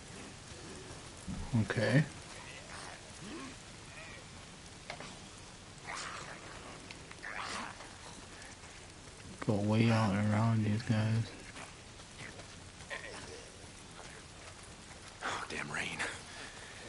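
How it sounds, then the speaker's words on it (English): Rain falls steadily in the video game Days Gone, a soft continuous hiss running through the whole stretch, with someone talking quietly over it and brief louder game sounds breaking in. "Why is it always raining?"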